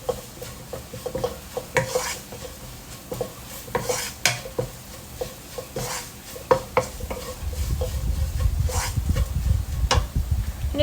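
Mussels are being stirred with pepper and chili spices in a pan, producing repeated scraping and clinking strokes over a steady sizzle that grows louder and denser toward the end.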